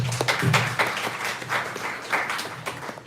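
Audience clapping for a group at a regional health performance review meeting, a steady round of applause lasting a few seconds with a thin voice or two underneath.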